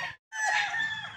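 A gamefowl rooster on a Filipino breeding farm gives one close, loud crow after a brief silence, the call holding strongly to the end.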